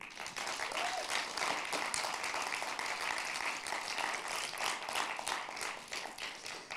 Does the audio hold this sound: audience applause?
yes